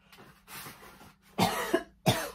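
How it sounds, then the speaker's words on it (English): Several coughs from one person nearby: a soft early cough, then two loud, harsh bursts, the second a double cough, with quiet gaps between them and no speech. "this is really annoying me, this cough"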